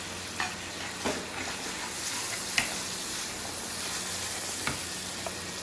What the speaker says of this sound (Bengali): খুব সামান্য চিলি সস দিয়ে আমি এটাকে নাড়িয়ে নিই।